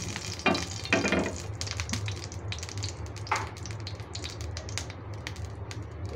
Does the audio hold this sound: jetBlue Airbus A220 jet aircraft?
no